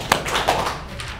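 A conference audience at an entrepreneurs' event claps in unison, two quick, near claps followed by a trailing wash of scattered applause and room noise.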